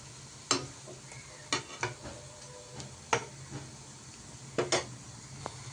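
Beetroot cutlets fry gently in a pan on a low flame, giving a quiet, faint sizzle broken by a few sharp clicks and taps of a spatula against the pan, with no one talking.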